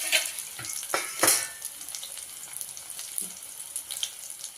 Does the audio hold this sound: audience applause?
no